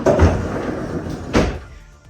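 Two close, solid knocks as sliding door panels are drawn closed over their track, the second landing about a second after the first, with quiet in between.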